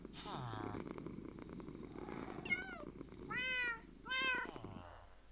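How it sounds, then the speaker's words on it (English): Cats lying on a bed in Minecraft purr softly, with a few short meows rising above, while a person talks over the top. "the cats are drawn to the bed, and when you sleep in it they jump on the bed and they purr"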